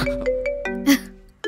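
A phone ringtone in a Tamil TV serial scene chimes out in a short melodic series of tones, fairly loud and clear, with no talk over it.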